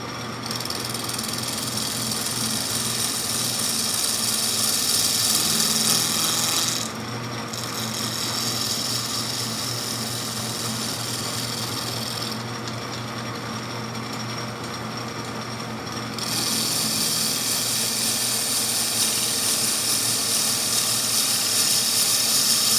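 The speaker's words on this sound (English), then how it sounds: "Turn on the lathe." A wood lathe turns a banjo rim on an expanding jaw chuck, giving a steady, loud, continuous whir and hiss of cutting that holds for over twenty seconds with slight shifts in tone.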